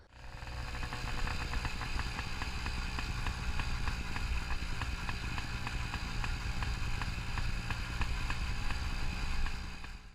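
An old New Hudson Autocycle motorcycle engine runs steadily with a rapid, uneven thumping beat and a mechanical clatter, loud and close, with no voices.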